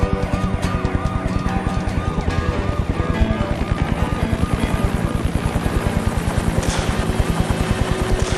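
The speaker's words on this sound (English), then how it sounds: "A chopper from the San Bernardino County Sheriff's Office soon joined the pursuit." A San Bernardino County Sheriff's Office helicopter flies over a police pursuit, its rotor chopping loud and close in a fast, steady beat, with faint siren wails underneath.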